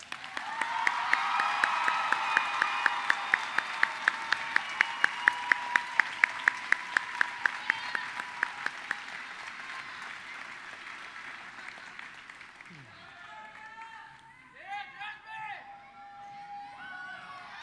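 Dense applause fills a 2017 high school graduation ceremony at Clear View High, with a steady rhythmic clapping pulse running through the crowd before it thins out and a voice speaks over the hall.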